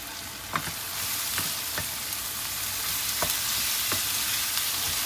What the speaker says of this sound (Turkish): Soğanlar kavrulduktan sonra üzerine biberleri ilave edelim. Biberlerle de şöyle bir güzel karıştıralım.